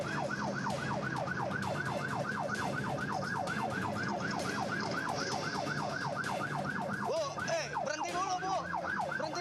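A wailing ambulance siren cycles rapidly up and down, moderately distant, over traffic noise during a chase with a minibus, shifting to a different siren pattern near the end.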